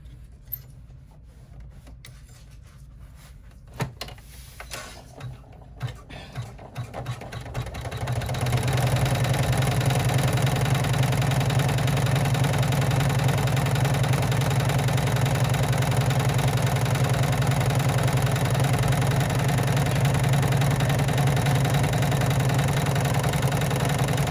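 An in-the-hoop embroidery machine sews the top stitch of a coffin crossbody bag, starting after a few scattered handling clicks and then running as a steady, loud mechanical whir with a low hum that continues to the end.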